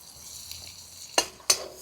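Onion dropped into hot oil with bay leaf in a wok over a wood-fired stove, giving two sharp sizzling bursts over a faint background hiss, close and brief.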